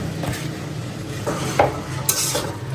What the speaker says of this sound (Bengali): এখন আলু দিয়ে দিচ্ছি